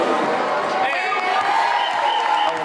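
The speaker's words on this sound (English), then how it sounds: "All the fans in the stands give a nice cheer" Fans in the stands at a school basketball game cheer as one continuous, loud crowd roar, with whoops and clapping mixed in throughout.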